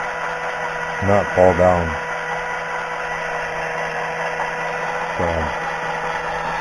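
A homemade coil winder machine runs with a steady, low mechanical hum and whine throughout, with someone talking briefly over it.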